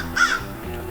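A couple of harsh crow caws close together, fairly near and brief, over a low steady background hum, at a campsite along Route 66.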